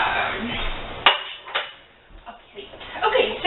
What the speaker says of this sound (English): I'm going to get my spatula. I need a spatula